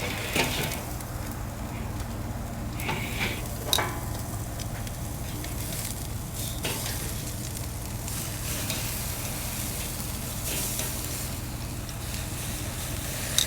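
Sous vide ribeye steaks sear on an SNS Grills kettle grill, a soft, steady sizzle with occasional crackles and light clicks, fairly faint and continuous throughout.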